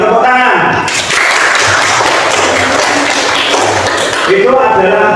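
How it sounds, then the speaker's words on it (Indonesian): A school class claps in a classroom lesson, a burst of applause swelling after an opening bit of talk and fading as speech returns near the end. "Tepuk tangan"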